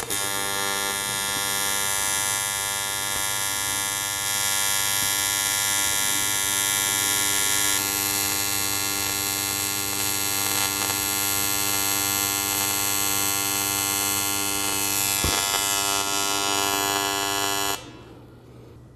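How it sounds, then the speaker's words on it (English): A Lincoln Electric TIG welder running on an aluminium butt joint gives a steady, loud electrical buzz and hum that holds evenly for about seventeen seconds, then cuts off abruptly as the arc stops. "I just made about an inch and a half weld here"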